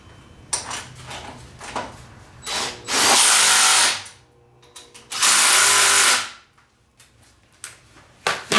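A power tool runs up on a car's starter motor bolts in two long, loud whirring bursts, surrounded by shorter clicks, rattles and brief tool pulses up close.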